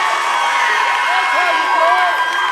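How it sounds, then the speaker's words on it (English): Loud crowd at a high school girls' basketball game, a sustained roar of cheering with whoops and children's shouts throughout, no break in the noise. "I'll tell you, this crowd's loud."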